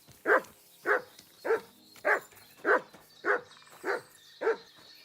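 A dog named Mutt in Kingdom Come Deliverance 2 barking eight times in an even, steady rhythm, clear and close against quiet surroundings.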